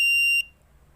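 A buzzer on a sunlight-triggered alarm circuit built with a Cretile robotics kit sounds one steady, piercing electronic tone, loud and close, which cuts off abruptly partway through and leaves near silence.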